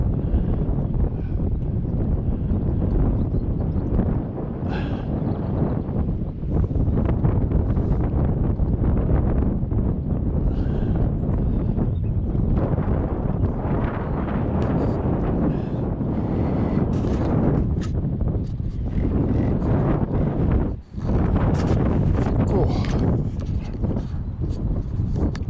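Gale-force wind buffets the microphone beside a lake during a carp fishing session, a loud, constant roaring rush with gusty swells and rustling that never lets up.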